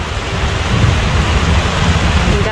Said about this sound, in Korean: 지금 비가 와서 기분이 안 좋은데 천둥 쳐